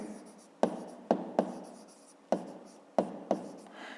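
A pen or pencil writes by hand on paper, with sharp tapping strokes and soft scratching at an uneven pace, close and quiet, with no voice.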